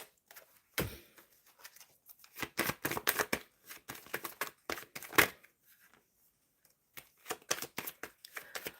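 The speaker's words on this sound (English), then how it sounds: "so let me shuffle for Sagar." Tarot cards are shuffled in quick, soft, irregular bursts of riffling and tapping over several seconds, fairly quiet, with no talking.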